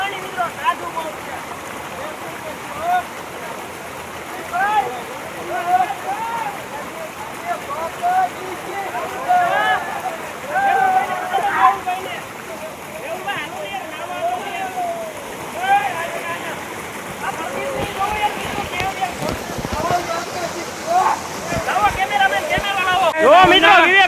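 Stream water flows steadily at Jatashankar Mahadev in Junagadh, a continuous broadband rush that stays up close for the whole stretch while several people talk and call out over it.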